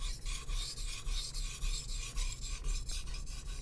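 A Japanese boning knife is ground on a 1000-grit whetstone in steady back-and-forth strokes, giving a close, quiet rasping scrape with an even rhythm.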